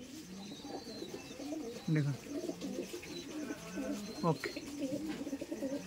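Madrasi tournament pigeons, including a female patta pigeon, give soft repeated coos close by, mixed with a few flutters, while someone talks over them.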